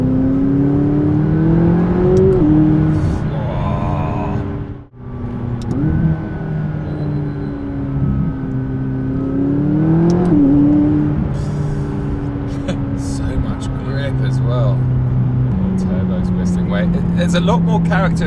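A 2017 McLaren 570S engine builds and pulls while driving, a loud rising and falling drone heard from inside the cabin with a person talking over it.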